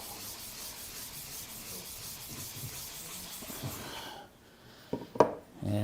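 Plane blade rubbed on a very fine 16,000 grit whetstone, a soft rhythmic scraping that stops partway, followed by a few light knocks and clatters.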